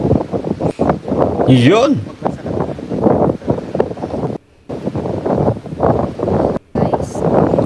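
Heavy wind buffets the microphone in loud gusts while a person talks over the roar, with a few brief drops in the noise.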